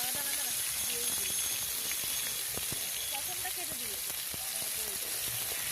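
Onion, ginger, garlic and tomato masala paste sizzles in hot oil after small shrimp fritters have been fried, giving a continuous loud hiss with a voice talking over it.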